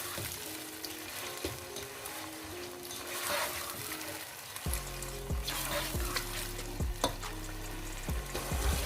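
Chicken frying in oil in a pan, a steady loud sizzle with stirring scrapes, then later joined by rhythmic metallic tapping and clanks from the cooking utensil.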